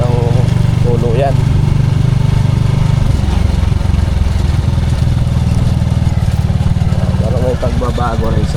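A motorcycle engine runs steadily during a break-in ride, a close, loud buzzing drone whose pitch shifts as the throttle changes, with someone talking over it throughout.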